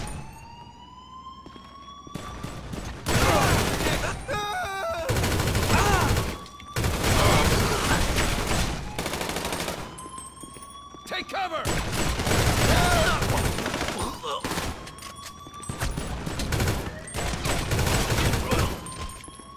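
Heavy gunfire in Grand Theft Auto V: dense, loud bursts of shooting come in several long volleys with brief gaps between them, and a wailing police siren rises and falls through the whole stretch.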